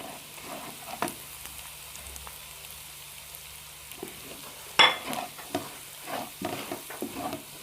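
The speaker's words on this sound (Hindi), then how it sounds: "देखिए, मसाला मैंने भून लिया।" Soft stirring and a light sizzle as spices with chilli flakes and salt are roasted in a pan for radish paratha filling, quiet and close, with a few scraping strokes and no talk.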